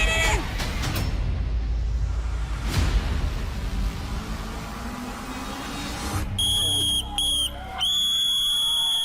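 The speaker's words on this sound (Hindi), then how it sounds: "लेकिन यहां रेफरी ने मार दिया वो आखिरी सीटी।" A referee blows a final whistle at a Battleground show fight-club challenge, shrill sustained blasts in a few bursts after noisy crowd commotion and rushing sounds, with talk mixed in.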